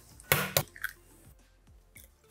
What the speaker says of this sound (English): 2 tablespoons of water into the scrambled eggs